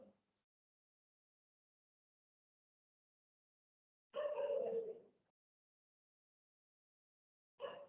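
A dog gives a short bark and whimper, then a second brief yelp after a long silence, both faint and isolated in a quiet room.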